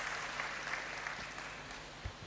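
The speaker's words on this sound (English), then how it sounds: "Please, let's give them another round of applause." A graduation congregation crowd in a great hall applauds after a Ghana Dance Ensemble drum-and-dance performance, with a short, even stretch of dense clapping that fades slightly as it goes.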